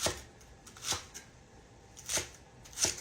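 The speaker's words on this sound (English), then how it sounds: "Don't cut big old hunks, just cut little ones." Knife chopping food into small pieces for a warm potato salad, giving four sharp, evenly spaced taps against a cutting board, close and clear with no talking.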